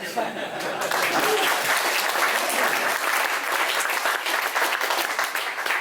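A real estate seminar audience breaks into continuous, even applause that fills the room from start to finish, with some talk faintly underneath.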